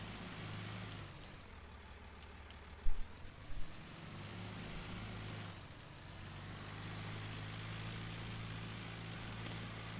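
Tractor engine in Farming Simulator 19 on a snowy farm yard, a steady low droning hum that runs throughout, with a couple of brief knocks partway through.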